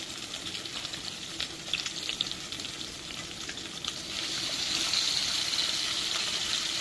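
Pieces of rui fish fry in hot oil for a Bengali-style kalia, giving a loud, continuous close sizzle that grows fuller and denser partway through, with no voices.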